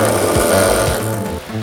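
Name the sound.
anti-lock brake system pulsating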